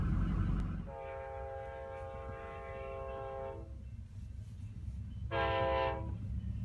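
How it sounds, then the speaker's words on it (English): Amtrak train passing through open country, with a long two-tone horn blast followed by a shorter one over a low rumble of rolling wheels, heard from a moderate distance. "Amtrak."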